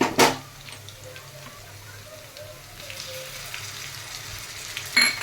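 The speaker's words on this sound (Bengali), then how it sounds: "এবার আমি আদা রসুনের পেস্টটা দিয়ে দেবো।" Ginger garlic paste hitting a pan of fried potatoes and onions, a sharp burst of sizzling at the start settling into a quieter steady frying hiss, with another spatula knock at the end.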